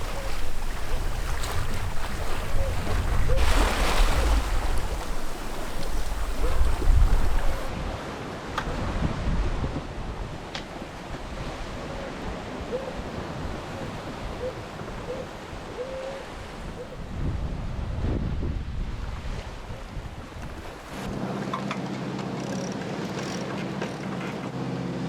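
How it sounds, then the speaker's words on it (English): Steep, standing waves wash around a sailboat at sea in a strong current, a continuous rushing of water and wind that swells louder early on and then settles into a steadier churn. "The waves are really standing up."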